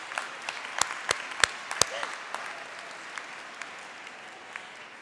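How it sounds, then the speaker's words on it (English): Applause from a seated crowd at a university graduation ceremony, opening with several sharp loud claps nearby and settling into a steady, moderately loud clapping that fades slightly toward the end. "big round of applause."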